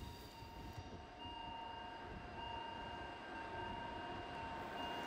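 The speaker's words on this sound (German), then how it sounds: "die Züge, die hier direkt an den Esstischen vorbeidonnern" Bernina Railway train rumbling past close by, a steady, continuous roar of rolling wheels and carriages with faint tonal whines, holding at an even loudness throughout with no talking.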